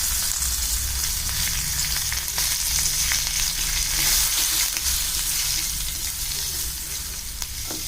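Curry leaves with a little turmeric fry in hot oil, a loud continuous close sizzle and crackle with faint stirring throughout.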